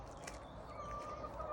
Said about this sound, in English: we're going to go and meet the chickens